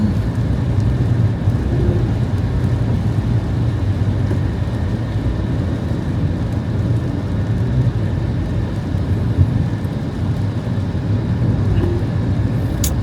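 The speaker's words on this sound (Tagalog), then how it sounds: "Maulan." Steady, dense rain falls continuously in a Philippine setting, a loud broadband wash with a low rumble underneath and no breaks.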